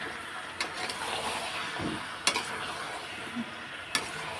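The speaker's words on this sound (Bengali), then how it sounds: "এখন আমি একটু নেড়ে চেড়ে নেবো" Potatoes for aloo dum are stirred in a sizzling pan, with a constant hiss of frying and three sharp scraping clacks of the spatula.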